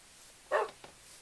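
A dog in the video game Minecraft gives one short bark, then a fainter second yip, over a quiet game background.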